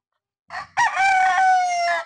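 A sweater gamefowl rooster crows close by: a brief throaty note, then one long, loud, full crow lasting over a second.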